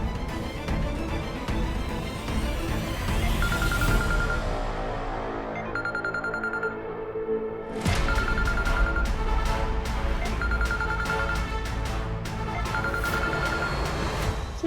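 A phone ringtone repeats in short bursts over a loud, busy musical backdrop, recurring several times across the clip.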